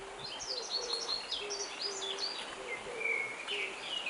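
Birds chirp and call in a forest, several short tweets and whistles overlapping at moderate distance over quiet background.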